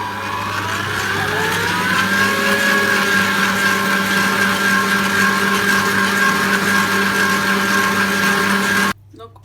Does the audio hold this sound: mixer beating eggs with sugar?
yes